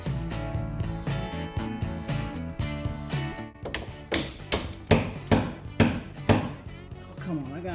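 A hammer strikes the suspension of a golf cart while a cheap 6-inch lift kit is installed. A run of sharp, evenly spaced metallic blows rings out close by after a brief stretch of other noise.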